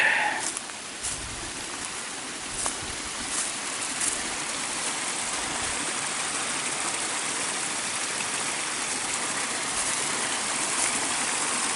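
A small creek flows beside a hiking trail in Pixley Falls State Park, a steady broadband rush of running water, close and continuous, with no talk over it.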